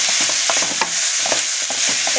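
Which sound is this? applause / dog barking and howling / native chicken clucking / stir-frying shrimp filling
stir-frying shrimp filling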